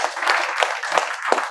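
A small group in a spoken English classroom claps in a loose, uneven rhythm of distinct sharp hand claps, close and moderately loud, with no talking over it.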